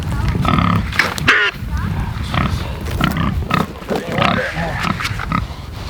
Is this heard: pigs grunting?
yes